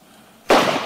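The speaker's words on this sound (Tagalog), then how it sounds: "Putok ng baril yun ah." A gunshot sound effect from a Filipino drama series: one sharp, loud burst cuts through a quiet background and then rings out briefly.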